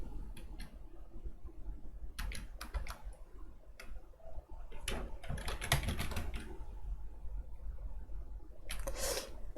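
Irregular bursts of keyboard typing, quick clattering keystrokes in short runs with pauses between, fairly close over a low background hum.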